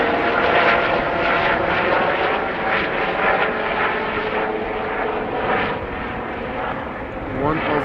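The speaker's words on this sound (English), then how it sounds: "So I'm hearing a helicopter pass over me." A Lifeliner emergency helicopter passes overhead near Amsterdam Schiphol Airport, its steady rotor and engine drone filling the clip with a broad, sustained roar amid wind.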